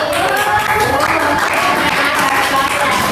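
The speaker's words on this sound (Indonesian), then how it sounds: "Tepuk tangannya yang bagus." A classroom audience claps for a presenting group, with dense, steady applause filling the room throughout, loud and close, with a few voices mixed in.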